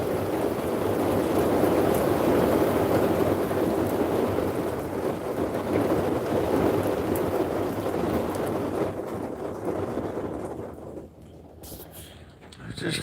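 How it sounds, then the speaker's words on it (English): Rain drums on the roof of a truck during a storm, a dense close roar that holds steady, then thins and drops in level near the end. "I'll be quiet so you can hear the rain"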